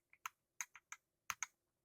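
Typing on an EPOMAKER Magcore65 Lite, a compact 65% keyboard, gives sharp, crisp, close-up keystroke clicks, about nine of them, irregularly spaced with short silent gaps.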